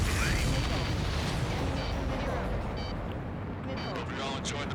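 Rumbling blasts and crackling detonations from a destroyed supply ship in the Ace Combat 7 air-combat game, a dense continuous roar of explosions with layered booms that stays loud and fills the clip, no clear talk over it.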